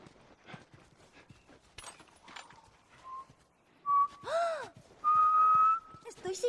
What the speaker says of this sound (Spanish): Estoy silbando.